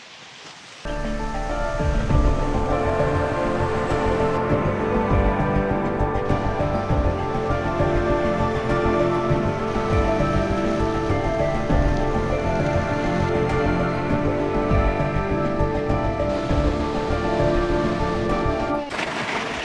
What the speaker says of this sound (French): on a de la chance parce qu'il pleut